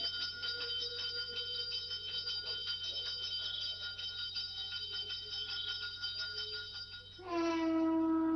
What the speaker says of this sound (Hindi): मंदिर की सारी घंटियां खुद ब खुद बजने लगती हैं।